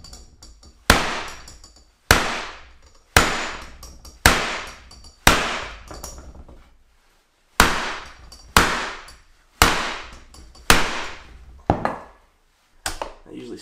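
A hammer whacks a crimp tool down onto a battery cable lug while wiring a 240Ah 12v off-grid cabin battery bank: about eleven loud, close, ringing metallic blows, roughly one per second, with a brief pause midway and no talking.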